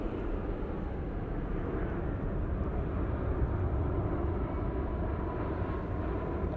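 A TUI Boeing 787 Dreamliner arriving at London on runway 05 left, a continuous low, rumbling jet roar that stays fairly faint and even throughout, with no talking.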